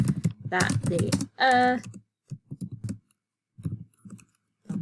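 A voice speaks briefly, then scattered bursts of computer keyboard typing follow, the clicks light and irregular, close to the microphone.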